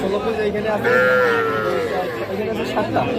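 Cattle, calves and young bulls low and moo amid a busy livestock market crowd, with people chattering nearby throughout.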